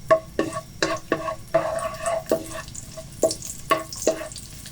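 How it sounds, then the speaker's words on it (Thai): Chopped garlic frying in pork lard over medium heat, a steady soft sizzle broken by regular scraping and clattering strokes of stirring in the pan, close and moderately loud. "พอเริ่มร้อนก็กระเทียมที่เราสับไว้ครับ ลงไปเคี่ยวให้เขามีความหอม"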